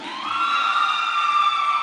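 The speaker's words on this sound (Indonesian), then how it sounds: "Jangan teriak-teriak," A church congregation in Ambon shouts and cheers for supporters at an elders' and deacons' solo singing contest, a loud, dense, continuous roar of voices with shrill whoops riding on top.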